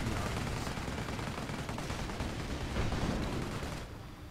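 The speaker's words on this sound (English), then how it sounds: "Oh shit, I'm getting sniped." Dense sustained gunfire from a Company of Heroes battle, rapid crackling shots blending into a continuous loud barrage that eases slightly near the end, with no clearly isolated single sniper crack.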